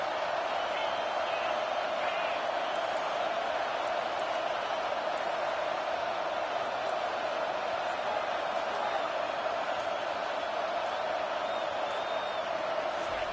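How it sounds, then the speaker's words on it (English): Football stadium crowd at a Texas Longhorns college game cheering for the defense near the red zone, a continuous distant roar of many voices holding steady throughout. "The crowd getting behind this defense as they try to get a stop in the red zone."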